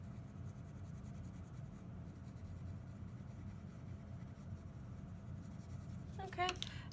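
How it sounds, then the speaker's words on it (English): A black colored pencil shades across paper at medium pressure, giving a soft, steady scratchy rasp that runs continuously, with a brief louder scrape near the end. "Now I'm going to take my black pencil, middle pressure, and I'm going to put down"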